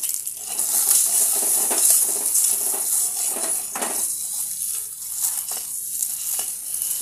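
Boiled potatoes fry in a pan with turmeric and salt for an egg curry, a close, steady sizzle broken by scrapes and clinks of a stirring utensil against the pan.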